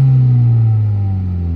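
A big-turbo Ford Focus ST engine gives a brief, loud, deep rumble close by, its pitch easing slightly downward.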